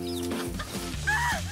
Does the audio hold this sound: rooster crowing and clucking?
yes